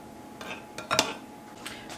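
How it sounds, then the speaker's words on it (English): Spoon clinking and scraping against a casserole dish while mixing canned soup for a cheesy hamburger potato casserole, a few soft metallic taps peaking near the middle, close and quiet. "If I can get it out with this spoon. And I'm just going to mix that up just a little bit to break up that soup."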